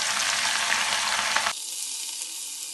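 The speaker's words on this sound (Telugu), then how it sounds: "నూనె కొంచెం బాగా వేడైన తర్వాత చేపలన్నింటినీ కొంచెం ఫ్రై చేసుకుందాం" Marinated fish frying in hot oil for a fish curry, a loud dense sizzle that drops abruptly halfway through to a steadier, quieter hiss.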